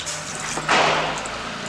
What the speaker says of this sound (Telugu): ఆల్రెడీ మనం కొంచెం వాటర్ పోసుకుందాం కాబట్టి ముక్కలతో పాటు ఒక గ్లాస్ వాటర్ సరిపోతుంది